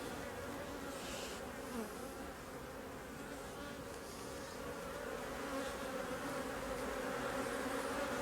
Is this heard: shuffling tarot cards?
no